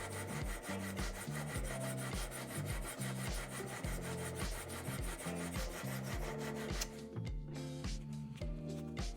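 A knife blade is hand sanded with 180 grit abrasive, giving a steady back-and-forth rasping in even repeated strokes, faint and close, with no talking.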